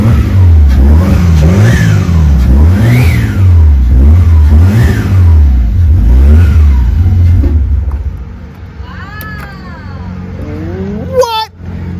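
A Nissan 240SX with an RB25 engine revs repeatedly through a loud exhaust, rising and falling in a steady rhythm, then drops to a rough idle with a few brief noises.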